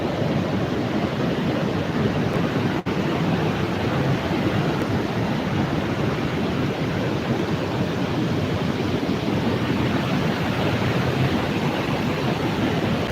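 A loud, steady roar of a flooded river rushing fills the whole clip, constant and unbroken, with no voices.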